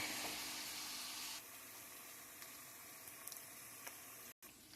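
Homemade chilli fries in a pan with a steady sizzling hiss. It is loud at first, then settles to a softer, even crackle with a brief gap near the end.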